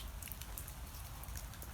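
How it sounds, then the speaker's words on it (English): Steady rain falls on a fishing shack by the water at Jubilee Pools, a dense, continuous patter of drops on the shelter at an even, moderate level with no voices. "the rain looks like it's never ending"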